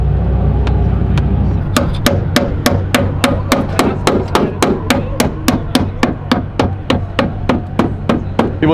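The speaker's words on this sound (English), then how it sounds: "what dirtbags are smashing up at F80 with a hammer" A hammer smashes steadily on an F80 car's bodywork to clear rubbing clearance: about two dozen sharp, loud metallic blows in an even rhythm, close by, over a low rumble in the background.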